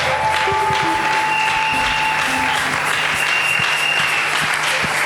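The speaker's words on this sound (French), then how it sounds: "On acclame très fort pour le Seigneur." Loud, sustained applause from a church congregation for the Lord, dense continuous clapping filling the hall from start to finish with no break.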